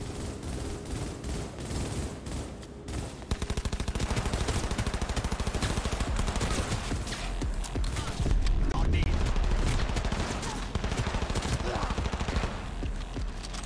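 Rapid bursts of automatic gunfire in Cyberpunk 2077, played on an Xbox One S at ultra low settings, crackle loudly and almost without a break. Heavy volleys build toward the end, and a voice is heard talking under the shooting.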